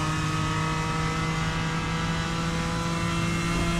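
A GT race car engine on a track in Assetto Corsa, droning loud and steady at a constant high pitch with no talking over it.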